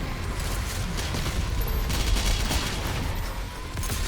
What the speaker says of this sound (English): there it is, the Super Shotgun Ballista